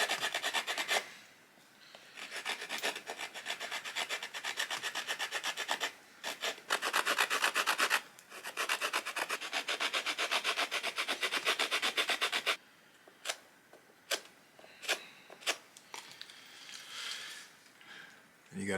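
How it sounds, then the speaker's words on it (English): A stone blade carves a notch into a wooden fireboard with close, rapid rasping strokes that run steadily for about twelve seconds, then break into shorter, scattered scrapes. "Stone blade, super effective on cutting notches in fireboards."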